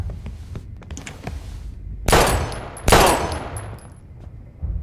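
Two loud, sharp gunshots in Life is Strange, close and about a second apart, each with a bright crack and ringing decay, following quieter thuds and scuffles.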